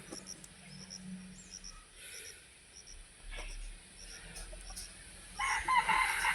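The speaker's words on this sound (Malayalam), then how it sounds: "കോഴി ഫാമാണ് കാണുന്നത്" Rooster crowing with chickens clucking at a poultry farm on an agricultural farm, with insect chirps in the background and a louder crow rising near the end.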